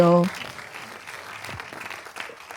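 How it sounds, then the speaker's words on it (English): An audience at a film screening and panel discussion claps together after a short tonal sound at the start; dense, steady applause fills the room at moderate volume, with some voices mixed in. "just give one more hand clap, if you will"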